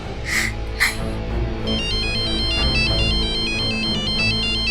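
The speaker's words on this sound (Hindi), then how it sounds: "पवन का फोन बज रहा है।" A mobile phone ringtone plays an electronic repeating melody loud and close, following a couple of brief sharp knocks at the start.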